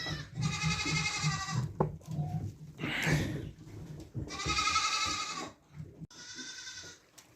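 Several ordinary Kazakh goats, not a pedigree breed, bleat nearby in wavering, nasal calls, three or four long cries with short pauses between, over faint background rustling.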